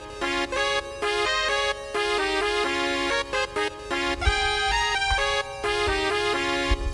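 Layered synth leads, including a square-wave synth and a trumpet-like voice, play a bright melody with harmony in a Deltarune-style video-game arrangement, steady and loud throughout with brief rhythmic gaps.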